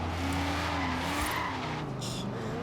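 A Ford Falcon GT-F 351 V8 in the Forza Horizon 3 racing game revs hard and loud, with tyres squealing and skidding as the engine note rises and falls.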